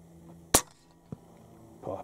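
A single sharp report from an Umarex Gauntlet .25 air rifle firing a slug, one abrupt loud crack followed by a faint distant knock and some low background rustle.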